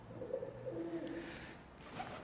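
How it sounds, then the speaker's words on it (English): Pigeons coo softly and repeatedly inside the abandoned Hallam Towers Hotel in Sheffield, up near the big extractor fan outlets, their low murmuring calls set against a steady background hum. "You can probably hear lots of pigeons are up here as well."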